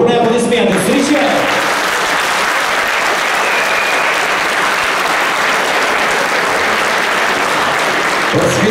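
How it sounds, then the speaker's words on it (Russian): Loud, sustained applause from a large audience of fans welcoming a team onto a stage, a dense steady wash of clapping from start to finish with a speaking voice briefly audible at the beginning. "Бурные аплодисменты!"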